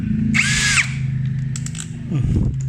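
A Yasuka YID-318CB impact drill runs in short test bursts: a whining motor tone rises and falls, with clicks and mechanical rattles between bursts, loud and close.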